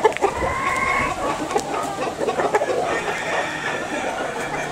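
Several bantam chickens cluck and chatter nearby in a busy, overlapping stream, with faint background noise throughout.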